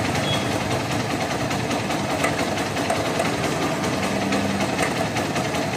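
A Hero Karizma motorcycle engine runs with a steady rattling, gurgling timing-chain noise from a slack tensioner, a continuous close mechanical clatter with no pauses.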